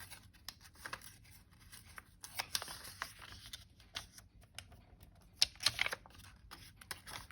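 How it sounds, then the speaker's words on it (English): Paper being torn by hand for a journal page, soft crackling rips in short bursts with a few louder tears, close and fairly quiet, no one speaking. "We might tear this."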